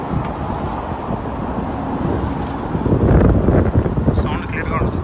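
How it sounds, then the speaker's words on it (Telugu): Strong night wind buffets a road bridge above passing car traffic, with a loud, continuous rushing roar that swells toward the middle and end, over a low traffic rumble. "సౌండ్ క్లియర్గా ఉంటుంది, గాలి వస్తుంది బాగా."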